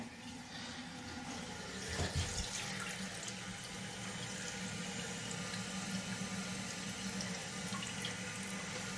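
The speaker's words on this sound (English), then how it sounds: "you can see we're starting to fill" A freshly installed toilet tank fills from its supply line with a steady, close rushing-water hiss that runs unbroken throughout, with a slight surge near the start.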